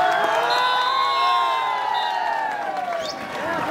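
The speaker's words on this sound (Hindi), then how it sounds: "जोरदार तालियों के साथ स्वागत करेंगे।" Crowd at a kabaddi final match in Bhopal cheering and applauding, a sustained mass of voices and clapping at moderate distance, steady throughout with shouts rising above it.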